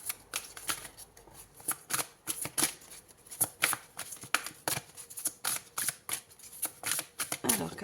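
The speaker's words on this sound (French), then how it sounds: "Allez, on prend une troisième carte." Tarot cards shuffled and drawn by hand, a run of crisp papery flicks and slaps in quick irregular bursts, close and fairly quiet, with a soft murmur of voice underneath.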